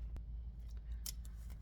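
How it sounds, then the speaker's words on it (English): A deck of oracle cards being shuffled, giving a few short crisp flicks and riffles over a quiet low hum, brief and close. "Let me shuffle."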